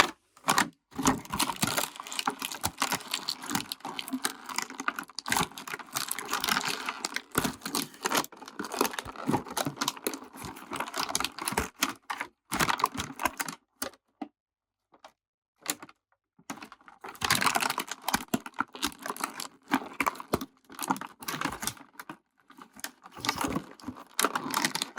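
Stiff plastic tabs pulled and snapped off Masterverse action figure packaging, a steady run of close, dry clicks, scratches and crinkles in bursts, with a quiet pause midway before the fiddling resumes.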